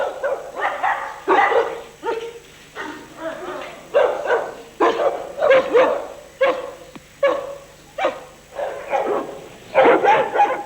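Repeated dog barks and yips from a combat-dog character in a video game, a steady run of loud close barks with short gaps between them, some whimpering mixed in, over a low game background.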